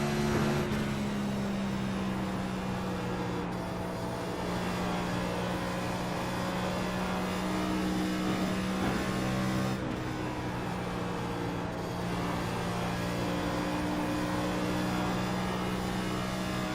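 A NASCAR Cup car races at Indianapolis, its engine a steady droning tone that holds for long stretches, briefly shifts pitch mid-run, then settles again.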